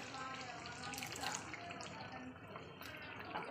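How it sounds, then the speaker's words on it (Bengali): A mixer grinder jar rinsed with a little water, a soft splashing and dribbling of liquid close by under a faint background hiss. "তো মিক্সচার জারটা আমি একটু জল দিয়ে ধুয়ে দিচ্ছি।"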